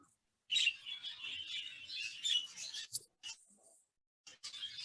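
Aviary birds chirp in quick, bright bursts, fairly close and steady for several seconds, then a short gap before the chirping resumes.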